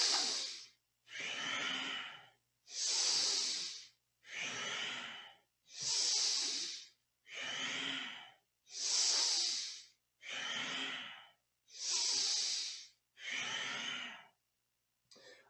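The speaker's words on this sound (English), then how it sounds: "All breathing is through the nose." Deep, powerful breaths drawn through the nose during Kundalini yoga, about ten long rhythmic inhales and exhales with short gaps between them, close and strong with no talk.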